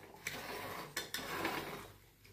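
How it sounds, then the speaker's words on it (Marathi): A spoon stirs jaggery in a pan until it dissolves, giving soft scraping and a few light metallic clinks against the pan, close and quiet, with no talk. "या गुळाचं पाणी होईपर्यंत आपल्याला हे गुळ हलवायचा आहे"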